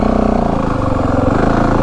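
A 2025 Yamaha WR 450F motorcycle engine revs in second gear, loud and close, with a continuous pulsing thump that climbs slightly in pitch through the short stretch.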